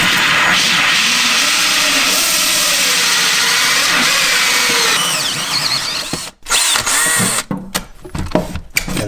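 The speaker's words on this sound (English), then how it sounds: "we're going to drill that 80mm hole to make sure this pop-up fits" A power drill bores an 80mm hole through a countertop using a template, grinding loudly and steadily for about six seconds before stopping and restarting in short bursts.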